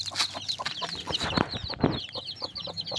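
Six chicks cheep in rapid, high, overlapping peeps close by, with clucking fowl mixed in throughout.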